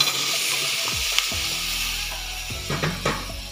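Star fruit sautéing in chili masala for pickle gives a close, bright sizzle with a low hum, and a utensil scrapes and stirs a few times.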